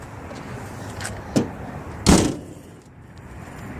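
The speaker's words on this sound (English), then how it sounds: "Shut the ramp door and you're ready to roll." The folding wheelchair ramp and door of a 2003 Ford Windstar LX mobility van close with two sharp thuds, the second louder, over low outdoor background noise.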